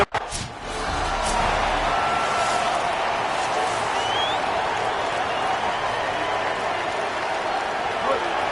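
A football crowd at Memorial Stadium in Lincoln roars in a loud, steady, dense wash of cheering and noise that holds throughout after a brief quieter start.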